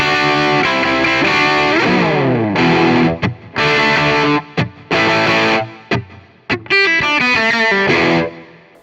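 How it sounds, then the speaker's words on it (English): Electric guitar played straight into a Marshall amp with no boost pedal, giving a classic crunchy, distorted tone. Loud strummed chords and riffs ring out, broken by short pauses and muted stops, with no talking over them. "So here's the amp by itself, kind of that classic Marshall tone."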